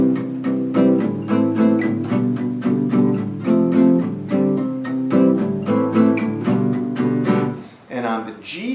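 Acoustic guitar strummed percussively in steady eighth notes, close and bright with crisp regular chord attacks, ending as a voice starts to talk.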